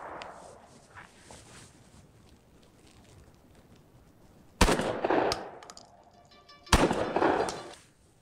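Two loud shotgun blasts at targets, 28-gram loads of number 7.5 shot, each a sharp crack with a ringing tail, spaced about two seconds apart outdoors after quiet wind-like background.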